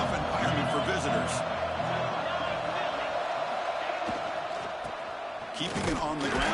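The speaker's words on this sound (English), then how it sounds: "Listen to the crowd energy here in the early going." Stadium crowd at a football game roars in a steady, dense wash of noise, loud and continuous throughout, with scattered shouts and cheers rising near the end.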